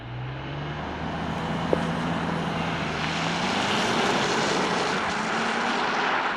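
A 2024 Porsche Cayenne Coupe with a turbocharged 3-liter V6 launches hard under launch control, its engine note climbing and then dropping abruptly at firm gear shifts before pulling steadily onward, loud and without talk.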